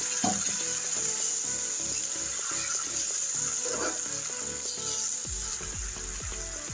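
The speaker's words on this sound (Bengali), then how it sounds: "এখন আমি অল্প করে একটু পানি দিয়ে দিলাম" Water splashes into a hot pan of lightly fried bitter gourd and rohu fish, raising a steady close sizzle that runs the whole time, with a tonal musical layer underneath.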